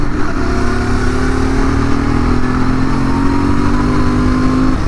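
A Royal Enfield GT650 twin motorcycle, a 2023 model, under way on a road test: a steady, loud, close engine drone with a smooth rising pitch as it pulls through a gear, continuous and without talk.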